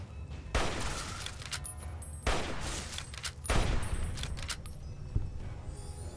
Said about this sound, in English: I continue to toss grenades at it